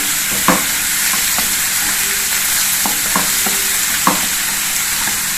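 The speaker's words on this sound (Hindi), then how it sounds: "लहसुन को हमें अच्छी तरह से भूनना है," Steady crackling sizzle of chopped garlic frying in hot oil, with a few sharp clinks of a utensil stirring the pan.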